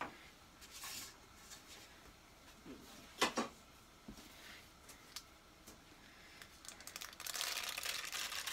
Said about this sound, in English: Pan liner off, we don't need that anymore.